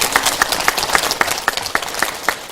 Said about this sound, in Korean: 다 같이 아멘으로 또 박수로 화답하시기 바랍니다